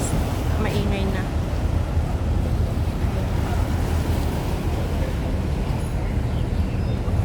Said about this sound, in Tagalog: Mas maingay na ang dagat oh.